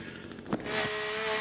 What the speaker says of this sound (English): Walking through the woods in KCD and I can hear a chainsaw.